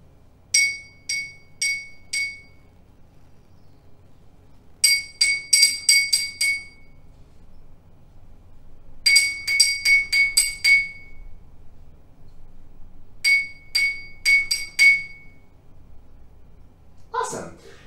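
Pens tap an empty drinking glass in short rhythmic bursts of bright, ringing clinks, grouped patterns repeated with pauses between, close and clear, ending with a brief voice.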